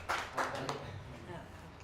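Brief applause from a small audience at a Kannada literary event, a few loud claps at the start fading quickly into scattered light clapping.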